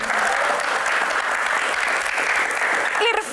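Steady, loud applause from an audience at a live Q&A event, continuous clapping that fills the whole stretch without pause.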